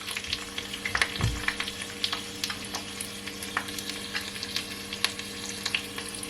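Jamaican escovitch fish frying in hot oil, a dense crackling sizzle with scattered pops and spits, steady and close, with a brief low thump early on and no voices.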